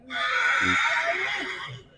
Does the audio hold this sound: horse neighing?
yes